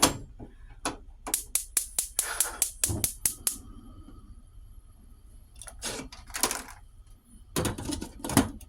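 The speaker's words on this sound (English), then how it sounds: "I'll get the stove started" A kitchen stove being started while cooking fish egg soup, its igniter giving a rapid series of sharp, close clicks in bursts, then a pause and two more clusters of clicking.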